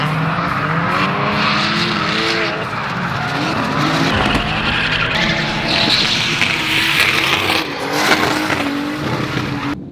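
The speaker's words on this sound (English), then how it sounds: "let's try with no music, so that way you get nothing but pure drift sounds" Cars drift at the VicDrift Winter Matsuri 2022 event, with engines revving hard and tires squealing and skidding in a loud, unbroken wash of sound and no music over it.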